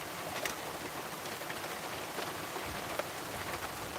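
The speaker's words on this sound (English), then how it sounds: "I did think that this rain was about to sort of peter out" Steady rain falls during a storm, a dense even hiss of drops spattering on surfaces nearby, continuous and fairly soft with a few sharper drips and no voices.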